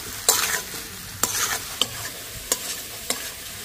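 Cooked rice is stir-fried for chicken fried rice, with a steady sizzle broken by about five brisk scraping strokes of a spatula against the pan, each a short rasping burst, close and without voices.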